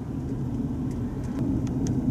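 Steady rumble of cars passing on a town street in Edinburg, Texas, a continuous low traffic drone that swells slightly toward the end, heard from inside a vehicle with no talking.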